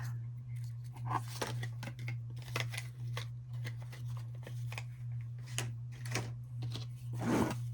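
Paper being cut with a small pen-style craft knife while making a journal cover, a run of short scratchy strokes and rasps up close, fairly quiet over a low steady hum.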